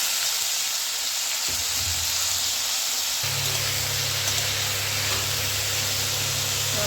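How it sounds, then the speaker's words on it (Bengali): Potatoes coated in salt and turmeric frying in oil over cumin seeds, a steady close sizzle and crackle throughout that thickens and intensifies partway through, no voices. "এপাশে আলুটা ভাজা হতে থাক"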